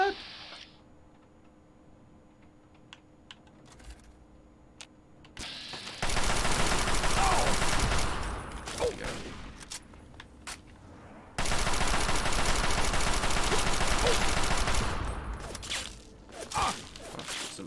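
Turret gunfire in Fallout 3: after a quiet stretch, two long loud sustained bursts of rapid shots, separated by a short pause, with faint voice sounds around them.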